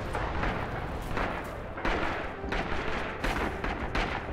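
Machine gun fire in the video game Rising Storm, dense bursts of gunfire with booming blasts amid constant battle noise, loud and continuous with no talk.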